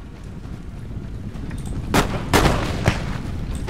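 Musket volleys from line infantry in the historical strategy game Empire Total War, with a few sharp cracks rolling out in quick succession over a low, rumbling battlefield background.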